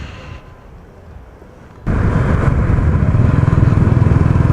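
A Himalayan BS4 motorcycle is ridden along a dirt track: a low rumble gives way to a sudden, sustained roar of engine and wind buffeting, loud and close, with no voices.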